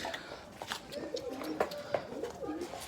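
Arab pigeons cooing in a loft on a cold day, a series of soft, low, rolling coos repeating near the listener over faint background noise.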